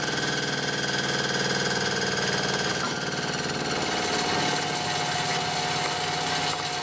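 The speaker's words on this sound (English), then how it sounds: "I never thought this was going to run a single phase motor." A single phase electric motor runs on a variable frequency drive, giving a steady close hum with a constant tonal whine; partway through, the pitch and texture shift slightly as it keeps running alone.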